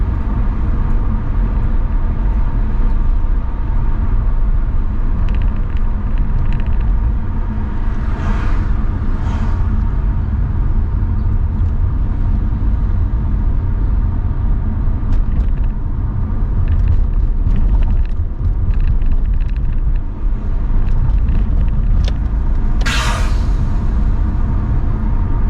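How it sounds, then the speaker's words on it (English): A car drives through the streets of Bucharest, Romania, its steady engine and road rumble loud and continuous throughout, with a few brief higher hisses of passing traffic and no talking. "I'm just driving today."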